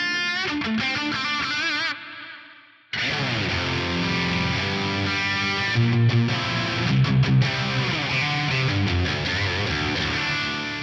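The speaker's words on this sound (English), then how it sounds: "your delays will kind of wash out into a reverb style effect" Distorted electric guitar chords through a Fractal FM3 Mark II Turbo ring out with echoing delay repeats smearing into a dense reverb wash, briefly fading to near silence before swelling back.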